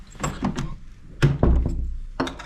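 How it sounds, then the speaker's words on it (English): A hotel room door in a London hotel thuds shut close by, followed by a short latch or lock clunk, with faint movement before and after. "Let's lock this door."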